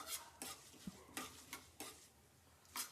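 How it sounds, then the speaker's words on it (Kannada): Mustard seeds spluttering and popping in hot oil in a pan for a mango side dish, a few sharp crackles and stirring scrapes at low level, no voices. "ಸೊ ಸಾಸಿವೆ ಚಟಪಟ ಚಟಪಟ ಅಂತ ಇರ್ಬೇಕು ಅಂದ್ರೆ ನಾ ಘಮ ಬರುತ್ತೆ"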